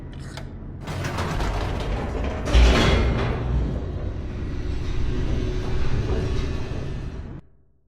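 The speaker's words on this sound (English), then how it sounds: "The elevator raced downward" A video game elevator in The Stanley Parable descends with a loud, continuous mechanical rumble and creaking grind, with a heavier clunk partway through, then cuts off abruptly at the end.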